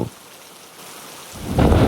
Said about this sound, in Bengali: ঘন ঘন মেঘের গর্জন সাথে অঝরে বৃষ্টি বইছে বাহিরে